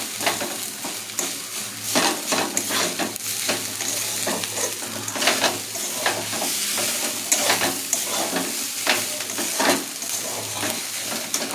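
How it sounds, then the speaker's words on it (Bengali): Rice and meat frying together in a pan, a loud continuous sizzle broken by repeated scraping strokes of a spatula as the mixture is stirred, with no talking. "এবার আমি ভাতটা দিয়ে ভালো করে নাড়াচাড়া করছি।"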